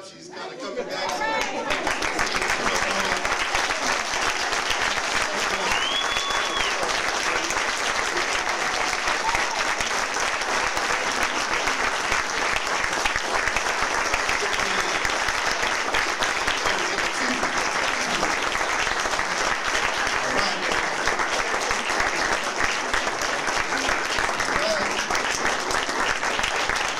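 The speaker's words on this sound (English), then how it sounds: "Y'all can clap it up." Sustained, dense applause from a large audience welcoming a speaker's introduction, steady and loud for nearly half a minute, with faint crowd chatter beneath.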